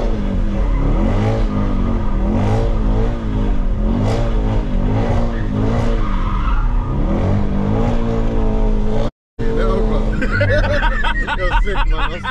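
An 800 bhp Mercedes GT63S with rear-wheel drive engaged accelerating hard with wheelspin, its engine note rising and falling in loud surging sweeps, with people laughing and chatting in the cabin throughout and a brief dropout before the noise resumes.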